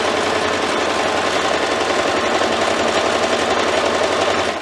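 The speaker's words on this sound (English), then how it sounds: "Forward back stitch and keep sewing." A sewing machine stitches fabric forward and back for a heatless hair curler, running as a loud, steady motor with a fast, even needle rhythm throughout.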